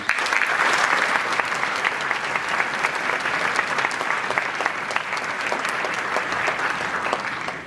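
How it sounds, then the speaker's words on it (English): A crowd applauds steadily for several seconds at a band concert, a dense, even clatter of many hands clapping indoors. "So a big round of applause for those directors."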